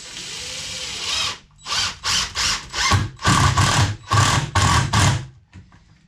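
Cordless power drill driving screws, roughly inch-long with a star bit, into a wooden board while building car ramps, heard as a series of about eight loud close whirring bursts with short pauses between them.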